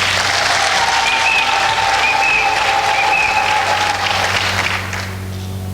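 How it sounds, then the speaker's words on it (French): Loud, dense applause from a church audience at a Congolese independence anniversary service, continuous clapping filling the space for several seconds over a steady low hum, tapering a little near the end. "On peut applaudir."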